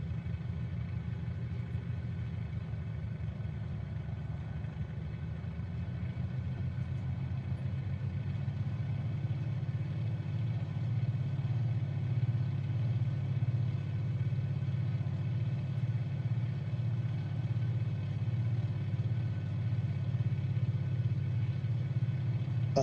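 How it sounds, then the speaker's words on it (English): A steady, droning aircraft engine from Microsoft Flight Simulator 2024 hums continuously at moderate loudness, low and even throughout with no talk. "I love the sound of that engine though."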